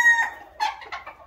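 A fighting rooster crows once loudly up close, a drawn-out harmonic call followed by a few shorter clucking bursts, with nothing else around it.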